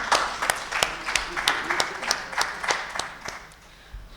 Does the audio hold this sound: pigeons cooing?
no